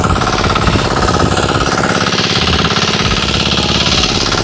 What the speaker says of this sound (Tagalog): Mag-grass cutter siya ng mga damo kasi matataas na daw.